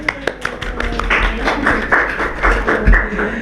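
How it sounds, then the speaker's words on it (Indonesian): A small group claps in a short burst of applause for Kak Jena, with sharp, uneven hand claps that start sparse and thicken into steady clapping. "tepuk tangan dong buat Kak Jena"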